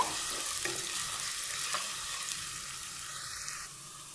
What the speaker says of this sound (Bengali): আমার পেঁয়াজটা ভাজা হয়ে গেছে অনেকাংশে